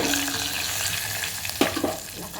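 A steady sizzle of seeds, garlic and curry leaves frying in hot oil, with a few crackles and stirring scrapes near the end, no talk.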